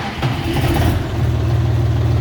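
A DongFeng 404 G2 tractor engine runs with a loud, steady low diesel hum, rising slightly in pitch and intensity after a moment as it revs, close up and without voices.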